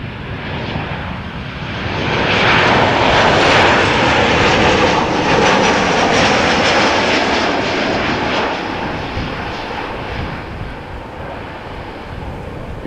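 An Airbus A330 airliner landing at Amsterdam Schiphol Airport, its engine roar swelling loud and broad, holding steady, then easing off slightly as it rolls out, with a little wind rumble on the microphone.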